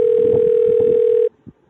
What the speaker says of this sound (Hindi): आबा दी को फोन लगाता हूँ।